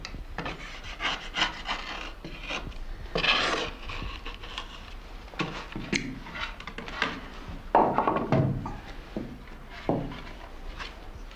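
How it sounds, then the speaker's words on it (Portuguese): A long-handled curved knife scrapes and smooths the edge of a wooden clog where the wood meets the leather, making irregular rasping, rubbing strokes at close range with short pauses between them. "Ele alisa as bordas onde a madeira encontra o couro, num acabamento que precisa ser perfeito"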